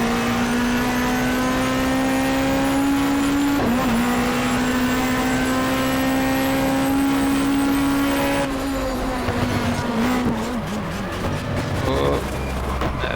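A BTCC touring car in a GTR2 racing mod, its engine droning loud and steady at high revs along the track, pitch dipping briefly at gear changes, then a rougher rattling stretch near the end.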